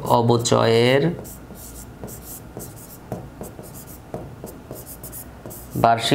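Writing on a board in an accounting lesson makes scratchy strokes and light taps in uneven bursts, with a voice speaking briefly at the start and again at the end.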